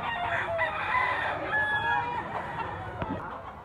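A young yellow-legged bullstag rooster crows nearby, one drawn-out cock-a-doodle-doo call, with soft clucking and faint voices around it.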